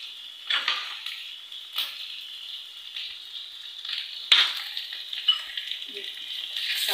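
Ginger garlic paste sizzles in a karahi, a steady frying hiss broken by stirring scrapes and small bursts of spattering, moderately quiet and close.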